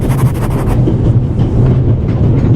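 Steady low rumble and rattle inside a moving train carriage in the game The Raven Remastered, loud and continuous with faint rhythmic clatter and no talk.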